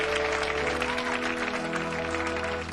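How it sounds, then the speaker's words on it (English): Studio audience applause on a comedy TV show fills the whole stretch with a steady, dense clatter of clapping, with a faint hum of background music tones underneath. "Give them a round of applause, Mel and Sue."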